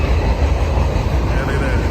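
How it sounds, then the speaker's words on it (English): Loud, steady low rumble of a train rolling past close by, a dense continuous roar with faint wheel clatter throughout. "It's kind of loud. I can't really talk over the train."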